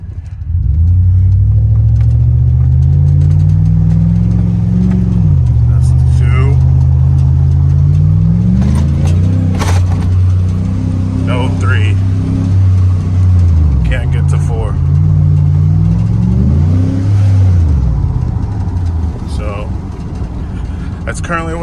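A car engine with a slipping 4L60E transmission revs loudly and repeatedly, pitch climbing then flaring out without gaining speed, several times over, with a person talking over it.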